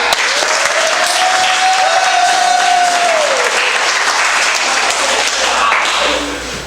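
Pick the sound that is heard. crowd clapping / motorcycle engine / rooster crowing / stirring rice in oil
crowd clapping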